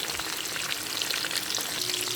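Homemade chicken pieces frying in hot oil, a dense, steady sizzle that fills the whole moment evenly and close up, with no voices.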